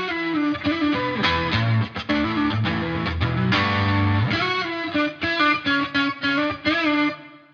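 Distorted electric guitar played through amp simulation with added reverb: sustained chords and rhythmic chugging riffs with sharp stops near the end, loud and full, with no talking.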